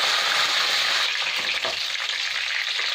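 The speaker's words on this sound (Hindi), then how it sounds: "एथिरे पुणी मु चिकेनटा को आउट पकईबी छाणिया पई।" Chicken 65 deep frying in hot oil, restaurant style, with a steady, close, crackling sizzle that runs unbroken throughout.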